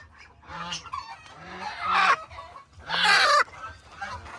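A rooster calls loudly close by on a farm, a couple of harsh squawking bursts over softer clucking, fowl sounds in a yard with no speech.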